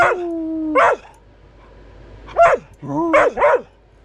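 A dog near an alpine lake in Colorado gives about five sharp, yelping barks with a rising and falling pitch. The barks come in uneven bursts, close and loud, with quiet gaps between them.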